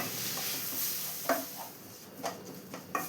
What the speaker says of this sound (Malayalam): ഇതെല്ലാം കൂടി നന്നായി തന്നെ ഒന്ന് വഴറ്റിയെടുക്കാം